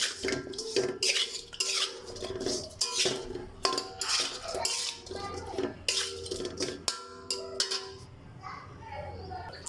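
Hilsa fish is mixed with salt, turmeric and oil in a metal vessel, producing busy, continuous clattering and scraping of utensil against pot, close and prominent, with a voice briefly heard.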